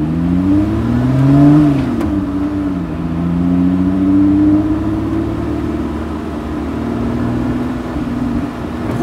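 A powerful sports car accelerates hard, its engine note climbing through revs, dropping briefly at a shift, then pulling strongly again in a loud, close, sustained run with no talking.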